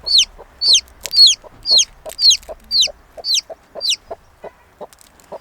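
Newly hatched chick giving a run of about a dozen sharp, high, clear peeps at a steady rhythm, close and fairly loud, alone without talk.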